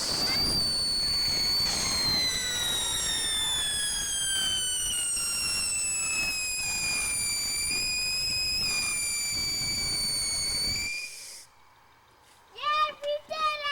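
A Fourth of July fireworks rocket launched at a family backyard display gives a long rising whistle with overtones for about eleven seconds, then cuts off, followed by children's excited voices and cheering.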